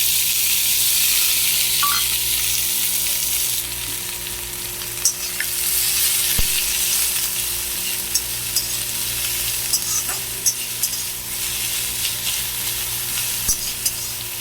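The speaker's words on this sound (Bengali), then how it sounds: "পেঁয়াজটা মিহি করে কুচিয়ে রাখা, এটাকে আমরা দিয়ে লাল লাল করে ভাজবো।" Finely chopped onion fries in oil with a steady, close hiss of sizzling, broken by occasional scrapes and taps of stirring.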